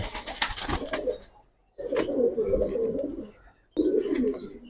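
Pigeons cooing in a loft, several bursts of throaty, rolling coos separated by short pauses, close and clear.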